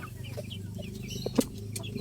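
A dark spangled backyard chicken gives a few soft clucks over low background noise, with one sharper, louder cluck near the middle.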